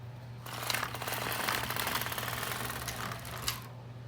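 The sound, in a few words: double bed knitting machine carriage knitting back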